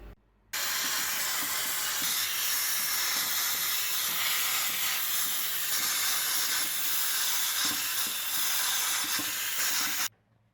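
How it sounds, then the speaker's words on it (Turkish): A steam cleaning machine hisses steadily as it cleans a kitchen stove, a loud, close, continuous jet of steam that starts abruptly and runs unbroken for nearly ten seconds before cutting off, with no talking. "Deterjansız bezle temizledikten sonra kalan atıkları tekrar buhar makinesiyle temizleyeceğim."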